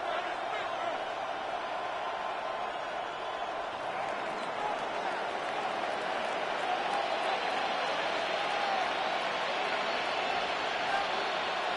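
Stadium crowd noise rolls on after a field goal in a Madden football video game. The roar is steady and diffuse, with no breaks.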